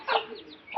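A domestic hen clucks softly beside her newly hatched chicks, two short close clucking calls with faint chick peeps between them, no talking.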